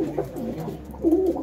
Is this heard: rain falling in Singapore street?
no